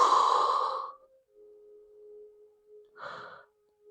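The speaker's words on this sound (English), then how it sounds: "Deep breath in, deep breath out." A slow breath during a yoga class, one long exhale at the start and then a second breath about three seconds later, soft and close, with a faint steady tone running between them and nobody speaking.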